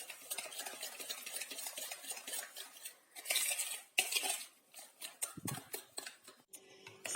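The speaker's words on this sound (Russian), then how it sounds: "В миску я разбила 4 яйца. Сюда же я насыпаю сахар. И просто это все перемешаю" A whisk or spoon clinks and scrapes steadily against a bowl while four eggs and sugar are mixed together, with a rapid metallic rhythm close by and a few louder knocks on the rim.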